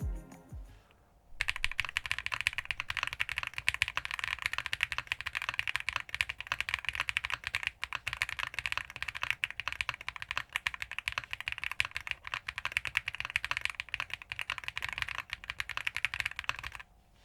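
Steady typing on an AngryMiao Compact Touch (AM 65 Less) mechanical keyboard fitted with silver switches and JTK Classic FC keycaps, a continuous rapid stream of soft clacks, close and fairly quiet, with no talking.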